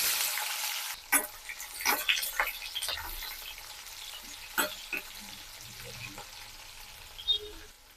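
Peeled small onions dropped into hot oil with spluttered mustard seeds for a village-style kara kuzhambu, giving a quiet sizzle broken by several sharp clinks and scrapes of a spoon against the pan, close by.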